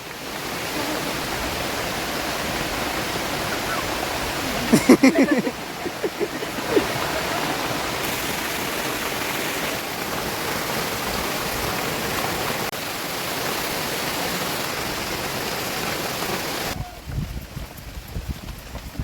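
Steady outdoor rain falls continuously at a village cooking spot, a dense even hiss running throughout with a few brief knocks near the middle and a slight drop near the end.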